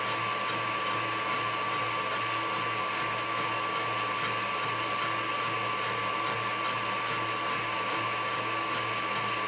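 Electric hand mixer at high speed whipping egg whites for a frozen soufflé, a steady close whirring drone with a constant high whine running unbroken throughout.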